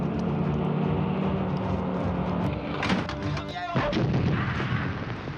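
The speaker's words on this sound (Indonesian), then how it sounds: "Hujan tembakan dan meriam tak henti mereka terima" Gunfire and cannon fire crack and boom in a war-drama battle scene as fleeing soldiers come under attack. Loud, sharp blasts and rattling shots come one after another over a heavy, continuous rumble.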